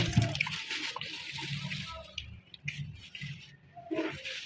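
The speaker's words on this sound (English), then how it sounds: "I'm trying to sieve the Okpa." Water and wet okpa mash being worked through a sieve, a steady close splashing and squishing wash with a few brief louder bursts of running liquid, no talking.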